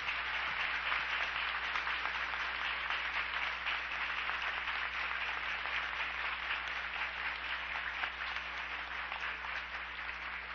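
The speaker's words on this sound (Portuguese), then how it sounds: "vamos dar uma salva de palmas para as crianças" A congregation at a missionary congress gives a steady round of applause for the children, dense clapping that holds evenly throughout at moderate volume, with a low hum underneath.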